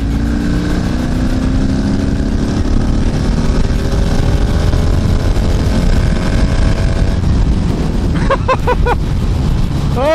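Honda V65 Magna and Suzuki GV 1200 Madura motorcycles accelerating hard in fifth gear, a loud, steady, rising engine roar with climbing tones, ending in quick revving chirps as they pull away.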